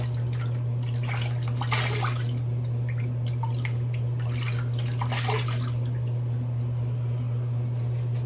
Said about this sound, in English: Rinse the face.